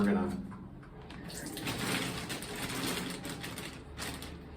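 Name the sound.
water filling a sink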